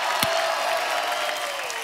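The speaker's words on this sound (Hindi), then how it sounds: "धर्म पाजी एक बार जोरदार तालियां बनती है यार" Studio audience on The Kapil Sharma Show applauding for Dharmendra: a brief, dense wash of clapping from a crowd, steady and fairly loud throughout.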